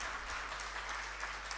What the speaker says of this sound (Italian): facciamo un applauso allora anche alla Laura